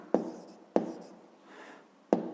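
A pen writes on paper during a fifth-grade maths lesson, three sharp strokes or taps spaced apart, each followed by a faint scratchy trail, close and quiet.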